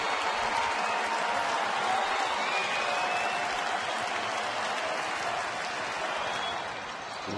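Rowdy baseball stadium crowd in the 11th inning of a New York Yankees at Texas game, a dense sustained roar of cheering and clapping that eases slightly near the end, no talk over it.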